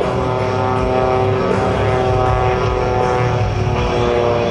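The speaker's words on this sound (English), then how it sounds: "This Waco biplane from the Weaver Airplane Company in Troy, Ohio," Waco biplane engine roaring through an aerobatic routine at the 2009 AirPower Over Hampton Roads air show, a loud, steady, close propeller drone with a rich harmonic hum and no talk.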